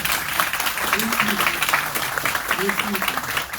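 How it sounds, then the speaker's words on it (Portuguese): Applause from an audience at a TUG-SP meetup at ESPM, a steady dense patter of clapping filling the room while voices murmur underneath. "Pessoal, salva de palmas para essa galera aqui"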